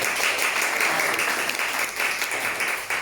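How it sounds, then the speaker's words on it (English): An audience at a speaking workshop applauds a volunteer, dense steady clapping that fills the room and carries on evenly without pause. "let's give a round of applause to"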